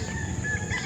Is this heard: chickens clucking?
yes